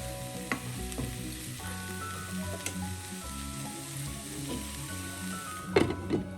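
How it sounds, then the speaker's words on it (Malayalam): Drumstick leaves and green gram stirred in a pan while cooking for a Kerala thoran, a soft continuous sizzle with occasional scraping stirs and a louder clatter near the end. "നന്നായി ഇളക്കി നമുക്ക് ലോ ഫ്ലെയിമിൽ അടച്ചു വെച്ചൊന്ന് വേവിക്കാം"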